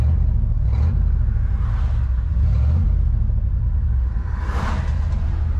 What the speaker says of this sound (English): I put a hole in the exhaust, that's all. So it's just a lot louder now.